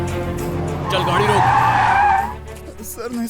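A car skids to a stop in a dubbed South Indian action film scene, a loud tire squeal rising over an engine for about a second before cutting off, with dramatic background music and voices around it.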